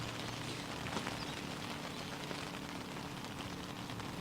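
Rain falls steadily during an outdoor cricket match as a constant, even hiss of drops with faint scattered taps, moderately loud and unbroken, with no voices.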